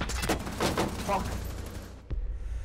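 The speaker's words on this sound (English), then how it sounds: "That gun sounds so weird with us." Bursts of rapid gunfire from a gun in a video game shooter crackle in quick clusters over the first two seconds, followed by a single sharp shot near the end.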